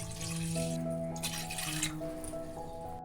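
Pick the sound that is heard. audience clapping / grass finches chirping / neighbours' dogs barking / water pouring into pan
water pouring into pan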